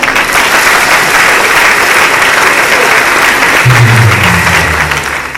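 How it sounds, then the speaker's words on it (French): At a 20th anniversary celebration, a large crowd delivers loud, dense, thunderous applause that roars continuously close by, with a low voice or tone emerging briefly near the end. "ça mérite une fois de plus une tonne d'applaudissements, un tonnerre d'applaudissements"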